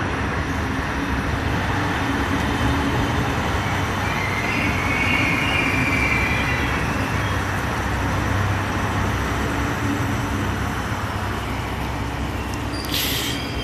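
Regio regional train, a Săgeata Albastră diesel multiple unit, rumbling steadily at a Romanian railway station, a continuous loud low rolling drone with wheel and engine noise throughout, no voices.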